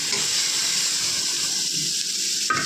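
Marinated soybeans hit a hot pan with a loud, dense continuous sizzle and hiss close up, ending in a brief clatter.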